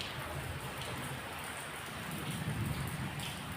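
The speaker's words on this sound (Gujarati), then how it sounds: "અત્યારે પાછો વરસાદ શરૂ થઈ ગયો છે" Steady rain pours down outdoors in a dense, even hiss that holds at the same level throughout, with no voices or other distinct sounds.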